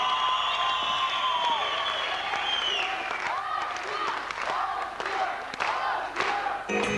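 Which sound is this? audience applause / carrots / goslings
audience applause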